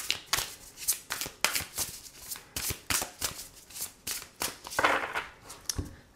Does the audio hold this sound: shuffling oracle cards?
yes